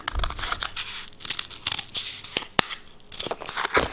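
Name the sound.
scissors cutting out a mouse ear template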